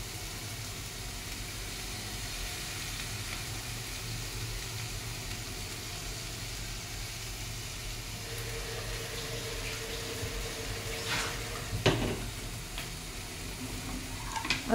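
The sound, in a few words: masala frying with mashed boiled potato in a pan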